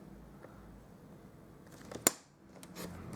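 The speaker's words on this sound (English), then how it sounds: "And then I'll cut these up to the 4 3/4 inch mark." Patterned paper cut for a butterfly box, with one sharp close snip of scissors standing out over a quiet room, followed by faint rustling of the paper.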